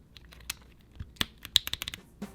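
PBT keycaps being pushed onto the cross-shaped stems of MX mechanical keyboard switches give a series of sharp, close plastic clicks and snaps in an irregular rhythm, with no talking.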